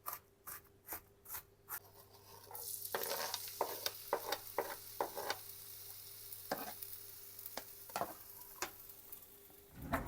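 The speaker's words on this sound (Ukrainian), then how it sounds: "І цибулю я буду тушкувати. Не підсмажувати, а іменно тушкувати." A large amount of onions stewing, not frying, in a pan with a steady gentle sizzle, while a spoon scrapes and taps against the pan in irregular strokes, close by.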